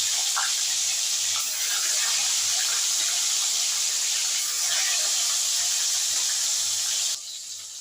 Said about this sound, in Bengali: মাছ ভাজতে হতে থাকুক